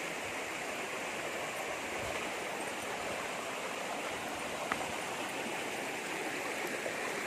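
River-like stream on a farm lot with waterfalls, rushing in a steady, full wash of flowing water from start to finish with no voices.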